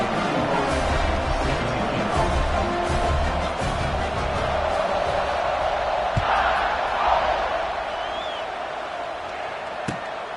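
A stadium crowd in the College Football 26 video game rumbles steadily around a kickoff, with a play-by-play voice talking over it and a few sharp thumps along the way.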